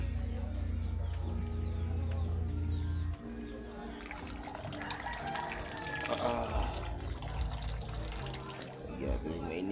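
Hot water runs into a bucket, a continuous splashing flow that shifts in tone partway through, with a voice speaking faintly alongside.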